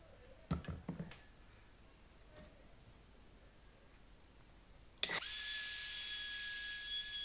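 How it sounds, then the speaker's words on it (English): A router rounds off the edges of a wooden chock for a bicycle stand. A few faint handling clicks come first, then the tool starts abruptly and whines loudly and steadily close by. "so we're straight on to hitting it with the router, just to round off the edges"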